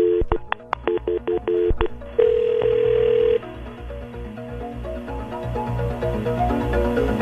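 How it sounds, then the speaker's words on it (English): A phone call being placed: a quick run of touch-tone dial beeps, then a sustained ringback or dial tone, followed by softer line noise, loud and close with no talk. "we're going to call him up"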